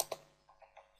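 A few quick clicks of typing on a computer keyboard, faint and close, two sharper taps followed by three softer keystrokes.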